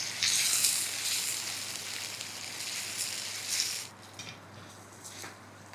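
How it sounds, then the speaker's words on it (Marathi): Onion-tomato paste fries in oil with a steady, fairly quiet sizzling hiss that softens and thins out toward the end. "इथं ही जी पेस्ट आहे ती तेलामध्ये व्यवस्थित अशी परतली गेलेली आहे"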